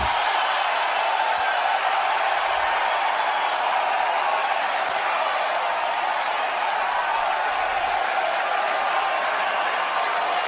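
A steady, dense roar of crowd cheering at the Masters golf tournament for Tiger Woods' win, carried over a radio broadcast, continuous and loud throughout with no clear breaks.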